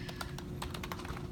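A computer keyboard is typed on in quick, even keystrokes as a URL is entered during a RHEL 7 virtual machine install, close and clear with no talk.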